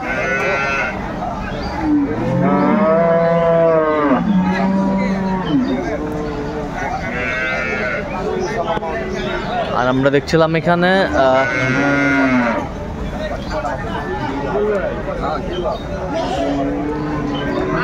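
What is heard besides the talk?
cows and calves mooing at a cattle market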